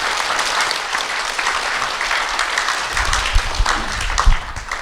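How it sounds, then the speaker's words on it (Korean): Steady, dense applause from a seminar audience at an academic conference on compassion, many hands clapping evenly throughout without speech. "큰 박수 한번 보내드리면 좋겠습니다"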